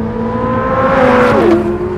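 Engine of a 2023 Chevrolet Corvette Z06 revs loudly and close for a moment, a steady tone climbing then dropping sharply as the revs fall, alone with no voices.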